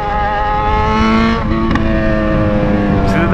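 A Yamaha XJ6 motorcycle engine revs hard and close, a loud sustained roar that climbs and holds with a steady harmonic drone, with no pauses.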